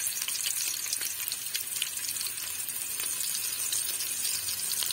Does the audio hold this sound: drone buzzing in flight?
no